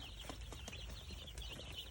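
Young chicks, including male layer-breed cockerels, are being brooded on a small farm. Faint, high chirps and peeps come steadily over a low background hum, with no talking.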